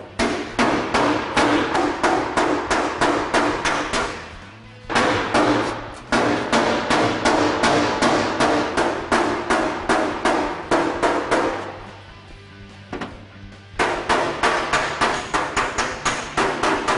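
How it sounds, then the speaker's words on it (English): Hammer and dolly work on a car body panel during body prep, a rapid run of sharp metallic blows in steady bursts with short pauses between them, loud and close. "so we're going to hammer and dolly it a little bit."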